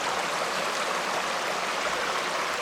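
A creek in a thorny Pacific Northwest ecosystem flows with a steady, broad rushing babble that stays close and unbroken throughout.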